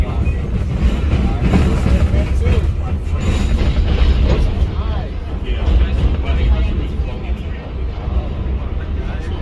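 A vintage New York City subway holiday train run by the New York Transit Museum rolls along with a loud, steady low rumble and rattling car noise throughout, with people talking faintly over it.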